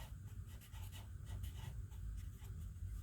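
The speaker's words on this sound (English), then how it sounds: "Now I'm going to go ahead and write Mama" Pen writing a name by hand on a recycled calendar-paper journal card, a steady soft scratching of strokes close up, with no talking.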